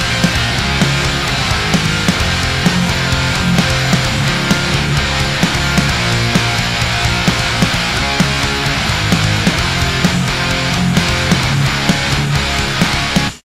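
A dense, heavily distorted electric guitar runs through a TSE X50 v2 amp plugin with an impulse response, playing loud driving riffs with chugging palm-muted rhythm, continuous for over ten seconds and stopping abruptly.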